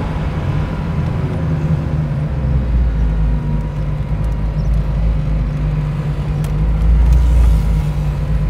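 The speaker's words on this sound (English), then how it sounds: "Something about that sound of that blower really, it really encourages you to do things that you shouldn't do." Supercharged engine of a 1974 AMC Javelin hot rod, a loud, continuous low rumble with a steady blower whine on top, swelling slightly as it pulls, close by and without talk.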